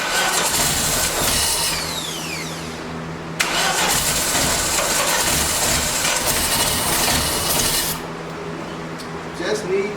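A junkyard 1989 Dodge Daytona cranks in repeated loud grinding bursts, briefly catches and runs rough, then cranks again, close to the microphone.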